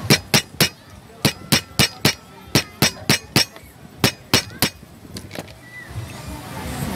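Sharp, repeated cracks of a small wooden stick breaking a hard shellfish shell at a beach in Fortaleza, Brazil, about sixteen crisp clicks in uneven bursts over steady outdoor background noise.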